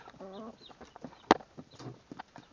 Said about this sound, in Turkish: Tavuklar şimdi yumurtlayana kadar burada duracaklar.